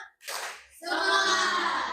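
Classroom students clapping on cue, a short burst of hands followed by a louder, sustained round of clapping close by.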